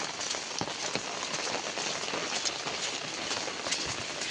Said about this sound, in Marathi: पाऊस पण पडतोय खूप